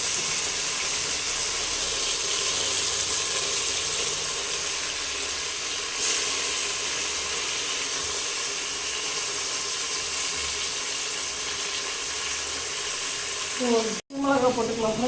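Raisins and cashews frying in hot ghee give a steady, close sizzle and crackle that runs unbroken, then cuts out sharply near the end.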